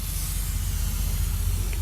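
Steady close hiss of ArmorAll ceramic wheel cleaner sprayed from a bottle, a continuous even spray lasting the whole moment over a low rumble.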